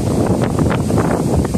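Strong wind blowing outdoors on a journey through Balochistan, a loud, continuous rushing roar buffeting the microphone with gusty swells, no talk heard.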